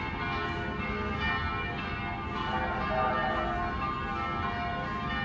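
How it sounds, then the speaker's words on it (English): Church bells clang across the town of Shkodër, Albania, a steady dense wash of overlapping peals that continues without a break for the whole stretch, moderately loud with no voices. "a cacophony of church bells clanging throughout the day"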